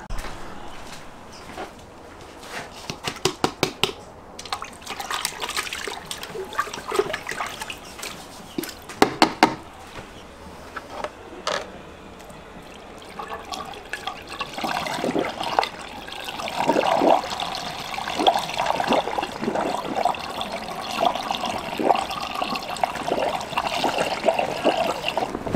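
Water sloshes and trickles inside a 4x4 footwell water bladder during a bicarb rinse, with knocking handling sounds early, then a more continuous splashing swirl later on.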